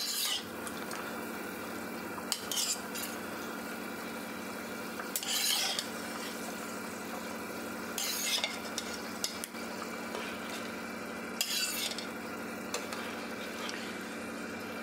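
Fried hilsa fish pieces drop into a simmering Bengali curry and get stirred in the pan. A soft bubbling hum runs underneath, broken every few seconds by brief bursts of spoon-on-pan scraping. No one speaks.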